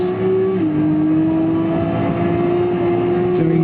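A race car in Gran Turismo screams at high revs around the Nordschleife, a loud, steady engine whine that drops in pitch on a downshift early on, then holds and climbs again.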